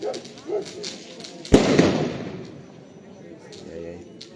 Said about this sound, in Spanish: Vamos a ver el cielo de Soras, fuegos artificiales, luces